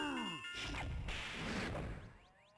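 Glass smashing in the Nintendo 64 game Donkey Kong 64, triggered by a triangle being played: a bright crash with tinkling shards and ringing chimes over game music, fading out.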